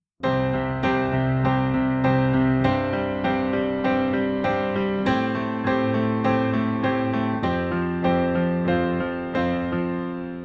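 Piano chords ring out with a steady rocking octave pattern in the bass, changing harmony every couple of seconds, played alone and clearly.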